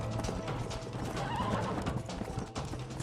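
A horse gallops with rapid hoofbeats and lets out neighs in the Red Dead Redemption video game, steady clip-clop at moderate volume throughout.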